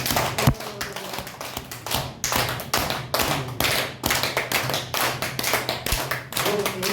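Seminar participants clap their palms together in unison as a health exercise, producing a loud, rhythmic series of sharp, synchronized claps with brief pauses between bursts, close and crisp over a low background hum.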